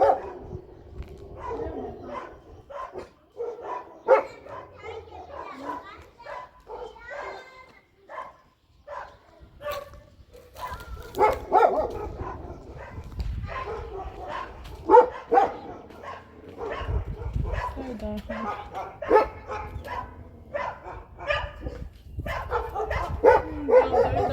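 A guard dog barks repeatedly in short bursts at moderate distance, the yaps mixed with brief whimpers, while people talk over much of it outdoors.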